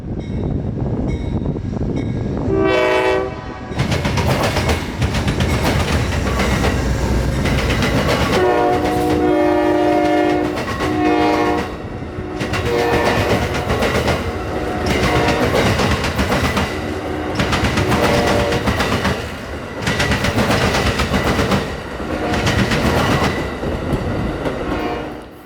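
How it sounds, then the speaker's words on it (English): Amtrak 92 passenger train roars past close by at evening, sounding its horn in several long blasts amid heavy rumbling and rhythmic wheel clatter on the rails. "but then we heard a distant horn coming from the east."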